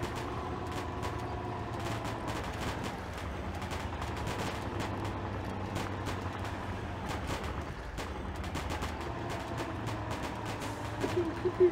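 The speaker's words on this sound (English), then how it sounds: "Oh, man, I've got some fireworks." Fireworks going off in the off-road truck game Mud Runner, a steady crackling barrage of repeated bursts lasting throughout, with an engine droning underneath.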